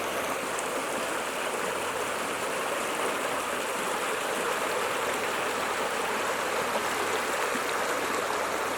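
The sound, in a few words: River Dove flowing water at Beresford Dale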